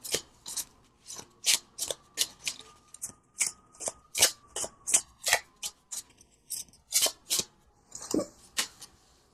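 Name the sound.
shuffling and drawing tarot cards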